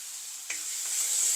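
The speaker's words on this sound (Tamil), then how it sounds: "ஒரு வெங்காயமும் சேர்க்குறேன் சேர்த்து இது நல்லா வதங்க விடணும்" Onion sautéing in a pan with green chillies and garlic for a vegetable curry: a steady, close hiss of sizzling oil with a brief stir of the spatula midway.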